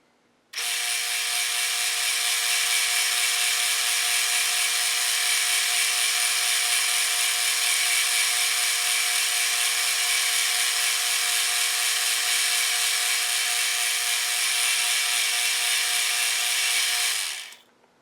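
A metal lathe runs steadily, a loud, even machine whine that starts abruptly, holds constant for about seventeen seconds and then cuts off, with no talk.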